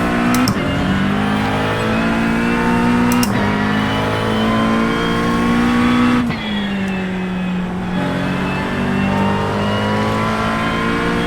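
A race car engine in the iRacing video game revs hard through laps at Lime Rock, loud and close with rising pitch sweeps and a few sharp gear-change drops.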